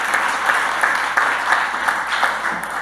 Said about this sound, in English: we really wanted to recognize him and give him a round of applause